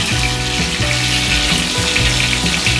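Cumin seeds sizzle and crackle in hot oil in a pan, along with partly boiled methi leaves, for a methi matar malai curry. The frying is loud and steady throughout, with no talking.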